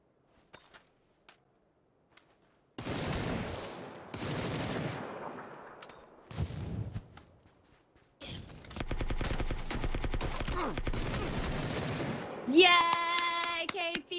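Gunfire in PUBG on the Miramar desert map during a console duos match, with silence, then several loud sustained bursts separated by pauses, a dense rapid volley near the end, and a voice briefly in the mix.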